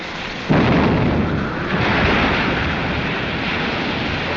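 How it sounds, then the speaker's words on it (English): Cannon fire in a 1936 seafaring film, a sudden loud boom followed by a long roaring, rumbling decay like surf or wind, heard close with no speech. "Fire that gun"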